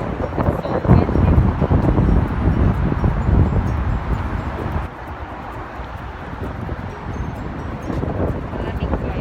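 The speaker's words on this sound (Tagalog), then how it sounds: "It's so windy." Strong gusty wind buffets the microphone beside Sheikh Zayed Road in Dubai, a steady broadband roar with loud bursts in the first half that ease slightly after the midpoint, traffic blending into the rush.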